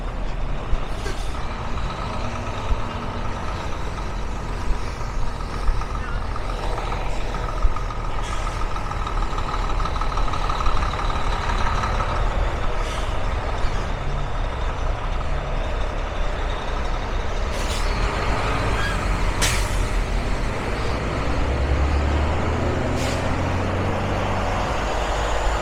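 Heavy trucks arrive at a port waterfront on the Charlottetown harbour, Prince Edward Island, their engines rumbling steadily with sharp air-brake hisses and bursts, under a constant outdoor roar.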